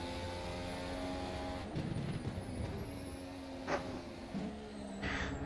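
An F1 car's engine in a racing simulator game, a steady high-pitched whine with gear changes and shifting revs, continuous and moderately loud without speech.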